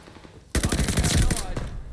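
An M1928 submachine gun in the Call of Duty Vanguard video game, opening up suddenly after a quiet start with a loud, rapid automatic burst that is sustained and close, with a short gap then a final few rounds.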